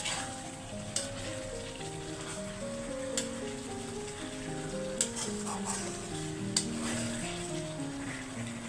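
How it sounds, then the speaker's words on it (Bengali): Hilsa fish pieces sauté in a pan with an even, continuous sizzle and occasional sharp spoon taps or pops, close and moderately loud, with no talking. "মাছগুলোরে আমি অনেকক্ষণ কষাবো, তারপরে আমি তরকারি দিব।"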